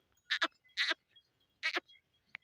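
Desi goats in a herd bleating, three loud wavering bleats spaced apart with a short faint call at the end, close by against quiet surroundings.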